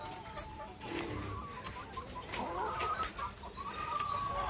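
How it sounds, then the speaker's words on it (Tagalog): Laying hens clucking and murmuring continuously in a coop, several birds overlapping at moderate distance. "Ito yung mga paitlogin natin"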